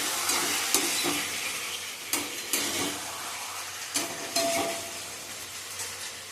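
Paneer cubes fry in melted butter in a wok, a soft continuous sizzle with a few scraping stirs and light clinks, fairly quiet and without talk.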